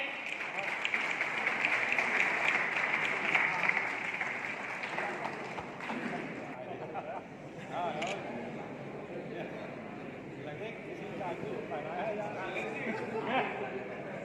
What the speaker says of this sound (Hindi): एक बार जोरदार तालियों के साथ आप सभी इनका स्वागत करें